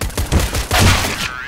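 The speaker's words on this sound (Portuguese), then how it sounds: "dois tiros" Gunfire in Counter-Strike comes as a quick burst of loud, sharp shots, several cracks in rapid succession, close and punchy, with no speech.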